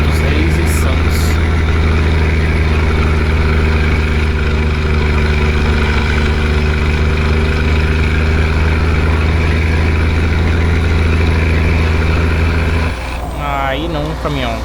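Simulated Scania R500 truck engine pulling a road train in Euro Truck Simulator 2, a loud steady low drone with rumbling harmonics holding for about thirteen seconds, then shifting into a changing pitch as a voice begins talking near the end.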